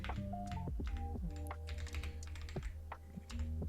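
Rapid keystrokes on a computer keyboard while entering text into a spreadsheet macro, a close, quick irregular run of clicks and thunks with brief pauses and no talking.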